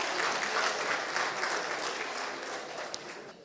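A studio audience at a televised news program claps for invited guests, a fairly faint, even patter of applause that holds steady and tapers a little toward the end.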